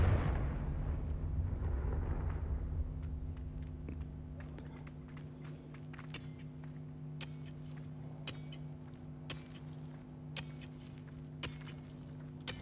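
Repeated Confringo fire spells blasting in Hogwarts Legacy, a booming burst at the start followed by a series of sharp cracking impacts over a steady droning game soundtrack.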